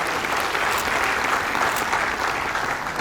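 A crowd at a Hindi poetry gathering, a kavi sammelan, claps to welcome a poet to the stage, steady dense applause throughout with no clear talk.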